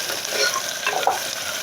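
Cumin and garlic fry in hot oil in a pan, giving a brief, steady crackling sizzle with light stirring scrapes and no voices.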